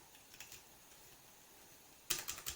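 Computer keyboard typing arrives near the end as a short, close burst of rapid plastic key clicks in an uneven rhythm, after a stretch of near silence.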